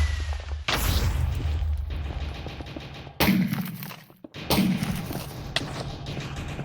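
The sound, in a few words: missile explosions in a video game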